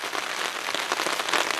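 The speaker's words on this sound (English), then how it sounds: "It's raining pretty steady." Steady rain pattering on a tarp sheltering a hammock camp during a spring backpacking trip, a dense, even hiss of drops close overhead with no pauses.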